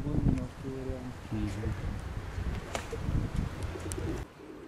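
Pigeons coo softly near a house while people talk over them, the soft calls appearing in short bursts beneath the conversation.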